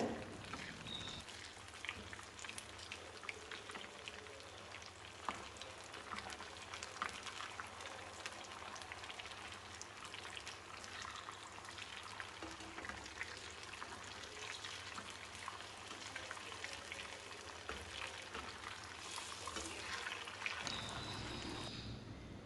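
Fish pieces fry in oil with a faint, steady, rain-like crackle of bubbling that runs evenly and alone through the clip.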